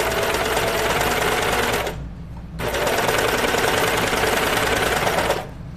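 A home sewing machine stitches a Linden sweatshirt in two steady runs of rapid, even mechanical whirring, separated by a short pause, close and loud.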